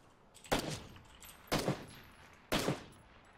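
Three sharp gunshots in PUBG ring out at about one-second intervals, each a loud crack with a short decaying tail, over a quiet background with no talk.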